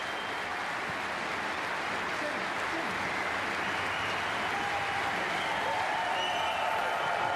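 A snooker crowd applauds at the German Masters final, a dense, sustained wash of clapping that holds steady throughout, with no lull.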